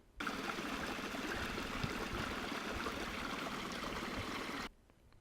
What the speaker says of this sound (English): There was this really peaceful babbling brook that I probably could have spent hours listening to.